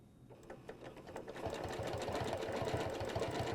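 A sewing machine stitching quilt pieces along a ruler template, speeding up from a slow start into a fast, even, close mechanical rattle that carries on steadily without pause.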